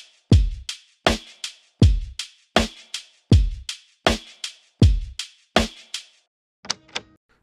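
An early-to-mid-2000s style hip hop drum loop, with a layered snare, thumps along in an even rhythm of deep kicks and sharp hits, ending in a brief, lighter rattle of percussion.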